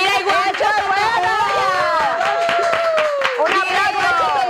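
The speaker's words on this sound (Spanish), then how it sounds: "¡Un aplauso!" A studio audience on a Dominican TV show applauds. The clapping is dense and lively, and excited voices call out over it throughout.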